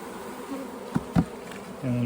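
Honey bees in a bee yard hum steadily and softly, with a few louder buzzes passing close by as individual bees fly near.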